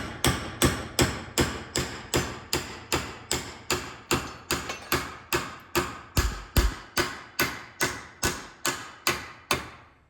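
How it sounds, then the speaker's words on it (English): Steady, evenly spaced hammer blows bending metal, about two per second, loud and close, each strike leaving a brief metallic ring. "Once I get that bend started, I'm taking a hammer,"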